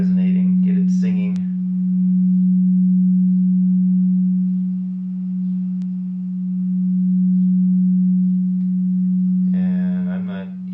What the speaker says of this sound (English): so here with the medium one, we can get it resonating, get it singing